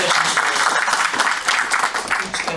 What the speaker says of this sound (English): Should we just have another round of applause for these candidates?